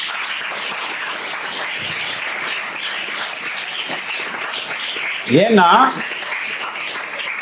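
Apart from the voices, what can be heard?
audience applause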